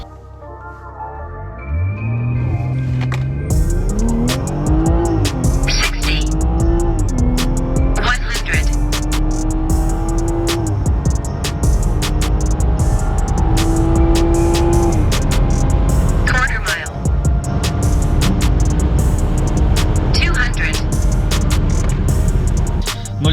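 A BMW 340 with stock engine and gearbox roars hard on a drag run and revs up through several gear shifts, loud and close, accelerating continuously for a long run.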